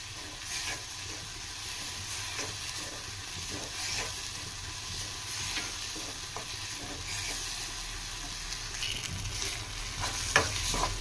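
Prawns for an Andhra-style fry crackle steadily in oil, a close, continuous sizzle with intermittent stirring scrapes and a few sharp pops.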